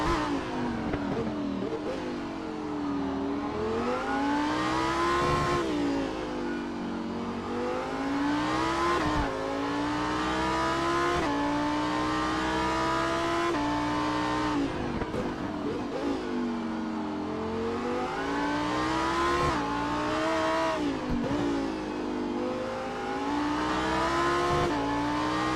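Onboard sound of the number 82 Lamborghini Super Trofeo race car at Detroit, its engine loud and close, revving hard through repeated upshifts and downshifts in a steady rising and falling cycle.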